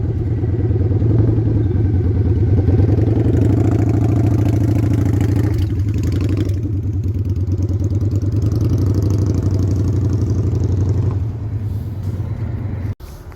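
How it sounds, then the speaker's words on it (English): A Kawasaki motorcycle engine runs loud and close at a steady, throbbing idle that holds for several seconds and then settles slightly lower, ending with a sharp click. "First arriving is my neighbor Will on his Kawasaki."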